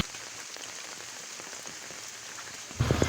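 Steady heavy rain pours down in a dense, continuous hiss of drops during flooding in Bangladesh, growing louder and closer in the final moments.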